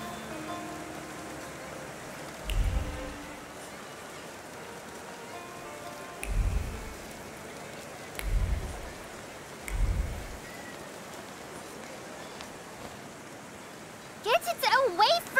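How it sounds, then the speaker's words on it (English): Rain falling in the video game The Thaumaturge, a soft constant wash of drops under several low, deep rumbles of thunder spaced a few seconds apart, with a brief voice near the end. "And now it starts to rain."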